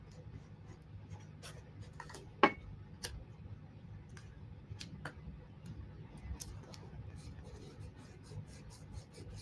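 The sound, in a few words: ripping scrap paper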